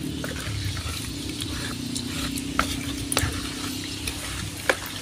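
A spoon stirs a mixture of sugar water and leftover rice for homemade liquid fertilizer, making soft, steady wet swishing with occasional light clinks against the container.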